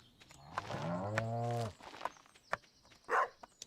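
A cow in the video game Stardew Valley lets out one long, low moo. Soft clicks and light tapping follow.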